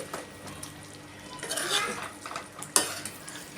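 Chicken cooks in a pan until its released water dries off. A soft, low sizzle runs under intermittent spatula stirring and scraping, with one sharp metal clink near the end.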